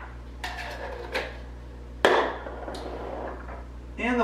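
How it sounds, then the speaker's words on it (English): Frozen berries and cherries dropped into a blender jar on top of bananas, several hard clattering impacts with one loud clunk midway, over a low steady electrical hum. "And the frozen berries and the frozen cherries."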